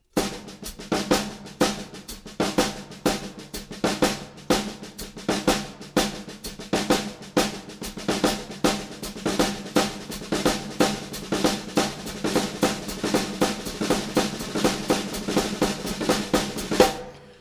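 Rapid drum triplet patterns on snare with an added accent on the third triplet grouping, played continuously in a fast, driving rhythm.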